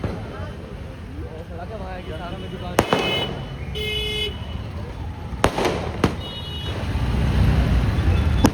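Firecrackers burst outside a wedding hall as sharp, loud bangs, several separate blasts spaced over a few seconds, with crowd and street noise and people talking throughout.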